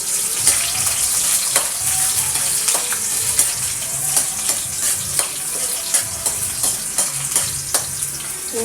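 Garlic and onion sautéing in oil as the base for a spaghetti sauce, a steady close sizzle punctuated by regular spatula scrapes and taps, no talk.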